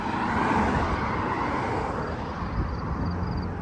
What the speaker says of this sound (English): I know it may be loud because of the cars